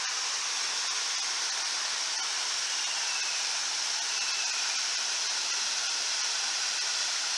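Waterfall at Boarding House Dam, not running hard, dropping into a gorgeous cavern; a steady, full broadband roar of falling water fills the whole stretch without letup, with no voices.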